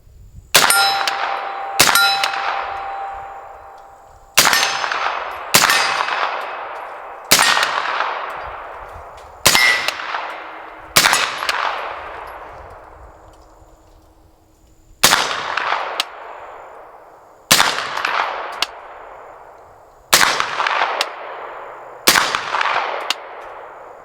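Sharp, loud gunshots from a C-5 rifle build fired outdoors, about sixteen rounds in spaced groups of two and three, each crack followed by a long ringing decay.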